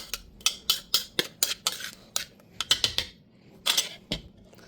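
Chopped white onions, red onions and jalapeno get stirred in a bowl, giving a string of close, sharp clacks and scrapes from the utensil in an uneven rhythm, with no talking.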